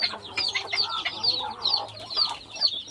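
Small bantam chickens cluck and chirp in short, repeated bursts, fairly close, with a low steady hum underneath.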